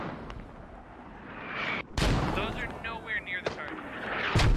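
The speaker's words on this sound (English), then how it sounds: "the mortars are short by about 60 meters" Mortar rounds land in the military shooter Squad, distant booming impacts with a heavy thud midway and more rumbling blasts, under a voice talking.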